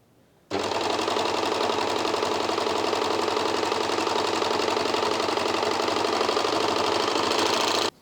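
A Janome 2000D airthreader serger sews a rolled hem, starting abruptly and running as a steady, fast, even mechanical whir close up, then cutting off sharply at the end.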